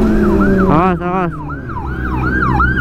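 Police siren wailing loudly and close in a busy market street, rising and falling in a repeated sweep with a brief faster yelp burst in between.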